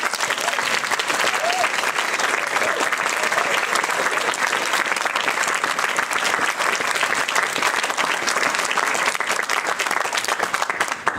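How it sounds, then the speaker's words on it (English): Sustained audience applause at a team awards event, a dense, even roar of many hands clapping that carries on strongly for over ten seconds. "So the folks behind me deserve another round of applause."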